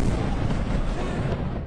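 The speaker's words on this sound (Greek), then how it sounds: "Αλλεπάλληλες είναι οι εκρήξεις στη Βηρυτό." Explosions in Beirut during a night of Israeli bombardment, heard in a news report as a rumbling, booming roar that stays loud and sustained throughout, with no clear separate blasts.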